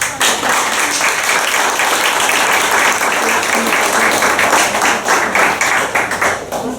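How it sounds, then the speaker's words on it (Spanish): An audience at a lecture on Havana's mortgage insurance law and urban growth breaks into strong, dense applause, steady and loud across the clip, with a few claps standing out near the end. "Un fuerte aplauso."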